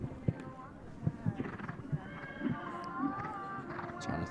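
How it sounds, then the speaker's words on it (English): A showjumping horse canters through a World Cup qualifier round, its hoofbeats thudding in an uneven rhythm with a brief whinny-like tone, under a commentator's voice. "This horse has got a super canter, covers the ground."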